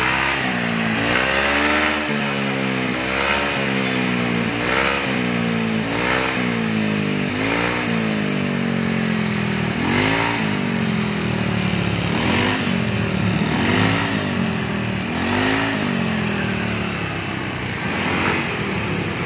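A Yamaha NMAX scooter fitted with an aftermarket racing exhaust revs repeatedly, its loud engine note rising and falling in steady bursts throughout, with no talking.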